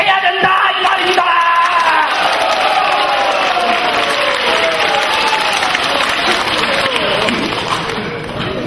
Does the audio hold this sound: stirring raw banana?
no